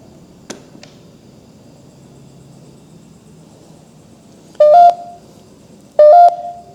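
An EMF meter gives two short, loud electronic beep bursts about a second apart in an otherwise quiet room, preceded by a faint click.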